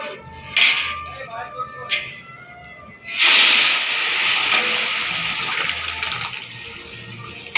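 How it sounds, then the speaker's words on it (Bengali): Masoor dal is poured into hot oil tempered with bay leaf, dried red chilli and cumin, setting off a loud, close, hissing sizzle that bursts in suddenly and fades slowly, after a few light clinks. "তেল গরম হয়ে গেছে, তেজপাতা, শুকনো লঙ্কা, জিরে ফোড়ন দিলাম। এবার ডালটা দিয়ে দেবো।"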